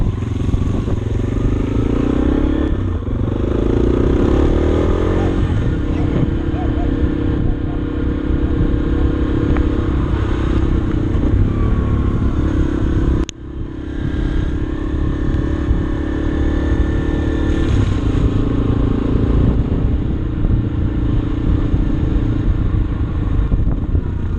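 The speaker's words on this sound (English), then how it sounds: "My son is on a dirt bike headed up the street" A dirt bike engine runs steadily during flooding after Hurricane Harvey in Katy, Texas, a continuous motor drone with clatter, close and loud throughout, briefly dipping near the middle.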